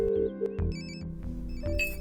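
A telephone rings in short electronic trills over a steady background of music, with repeated bursts close and clear.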